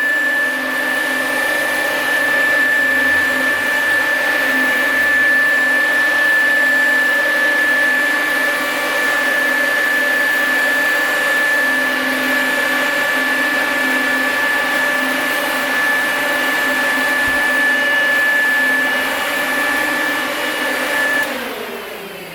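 Steady, loud whirring drone of an electric radiator cooling fan running and moving air, with a constant motor whine that holds for the whole stretch and dips slightly at the very end.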